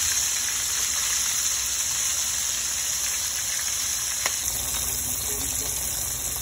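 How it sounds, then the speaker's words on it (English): Floured blue crab frying in a deep fryer gives off a steady, bright hiss and crackle of hot oil that holds constant throughout. "And the deep fryer."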